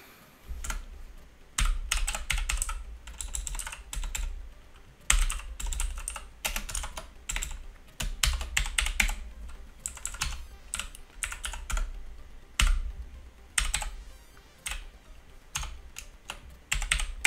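Rapid typing on a computer keyboard while coding 6502 game routines, with bursts of quick key clicks broken by short pauses, close and crisp, without any talking.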